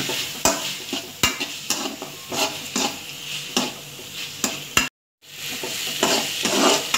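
Tomatoes being stirred and sautéed in a pan for radish sambar, with repeated sharp spoon scrapes and knocks over a continuous sizzle, cut by a moment of silence before frying resumes.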